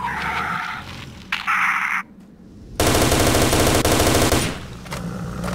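Machine-gun fire in S.T.A.L.K.E.R. comes in loud, rapid automatic bursts, a short one early and a longer sustained volley in the middle, with quieter game sounds between.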